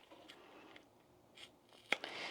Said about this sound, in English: you just run your scissors right up along the very edge.